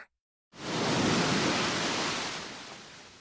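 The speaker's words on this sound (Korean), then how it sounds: "내리쬐는 태양과 밀려오는 파도 소리." Ocean surf at a sunny summer beach in a video game: after a brief silence, a broad rushing wash of waves swells in suddenly, holds steady and then slowly eases off.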